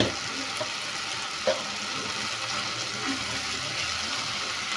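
Spice masala with salt and turmeric sizzles in oil for prawn malai curry, a steady faint frying hiss with a couple of small clinks.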